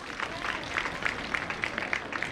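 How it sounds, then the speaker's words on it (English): Parents in the audience at a girls' high school alumni association launch clap together, a steady crowd applause with rhythmic bursts of hand claps, moderately distant and fairly faint. "Can you clap for the guys, the parents?"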